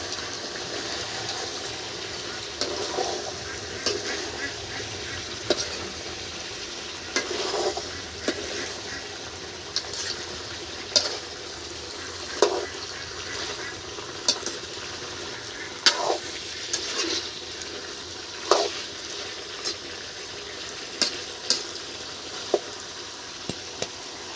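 Duck meat curry with white gourd is stirred in a hot pan, a soft continuous sizzle broken by repeated scraping clicks of the spoon at irregular intervals, close and fairly quiet.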